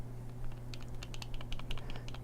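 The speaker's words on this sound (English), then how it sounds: "You can hear the two AAA batteries clicking around a lot." Two AAA batteries rattle loose inside a Thorfire PF04 flashlight carried in a pants pocket, making quiet, irregular clicks over a steady low hum.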